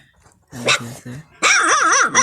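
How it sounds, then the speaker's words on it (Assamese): Young puppies crying, with short lower sounds first and then a burst of high, wavering whimpers and yips, close and fairly loud. "আমাৰ কুকুৰৰ পোৱালিকেইটা ইমানে মজা কান্দি আছে"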